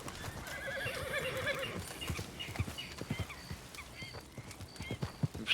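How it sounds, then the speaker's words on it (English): A spooked horse neighs loudly in a long whinny, followed by hooves clip-clopping close by with uneven steps and a few quieter snorts. "The horse spooked by something."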